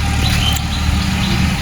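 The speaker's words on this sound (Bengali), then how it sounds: "জমি চাষ করতেছে পাওয়ার টিলার দিয়ে।" A power tiller ploughing a field rumbles with a loud, steady engine drone, continuous and close.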